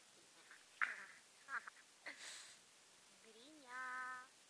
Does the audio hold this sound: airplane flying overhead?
no